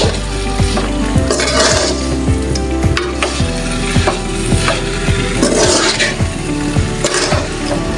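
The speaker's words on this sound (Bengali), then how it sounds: "এবার আবারও নেড়ে চেড়ে নিব সব মশলা।" Plum pickle with spices stirred in a pan, a loud, steady sizzle with regular scraping and clinking strokes of the spoon against the metal, close up and with no talking.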